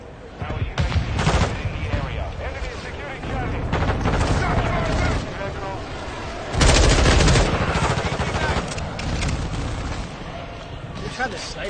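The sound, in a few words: gunfire in the video game Call of Duty Warzone 2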